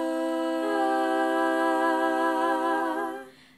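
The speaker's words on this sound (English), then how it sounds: "this is how a C major chord sounds a cappella." A cappella voices sustain a C major chord, stacked harmonies held steadily for about three seconds before fading, with no talking.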